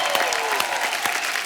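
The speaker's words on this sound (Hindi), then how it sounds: "एक बार हमारे तमाम कलाकारों के लिए जोरदार तालियां" Studio audience of a comedy show applauding the performers, a dense, loud, sustained wash of clapping from a large crowd that fills the whole moment without pause.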